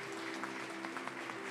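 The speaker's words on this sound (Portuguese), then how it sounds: "Você pode aplaudir ao Senhor por isso?" A church congregation applauding during an online worship service, steady scattered clapping at moderate level with no voices on top.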